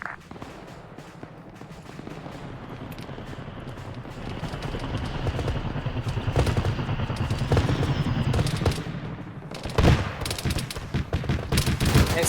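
Dense bursts of automatic gunfire and scattered explosions rattle continuously in Arma 3, with a heavy blast near the end amid a busy battlefield din.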